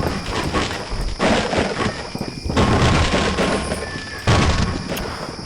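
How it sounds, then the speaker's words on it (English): Dense, continuous rumbling video game battle noise with layered booms and crackling, steady and loud throughout, distant gunfire and cannon blasts blending together. "all that background noise is supposed to be distant gunshots, cannons going off, horses dying"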